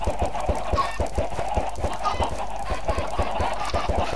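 Chickens in the Minecraft video game cluck in a dense, steady stream of short pecking calls from a large crowded flock, loud and close throughout with no talk over them.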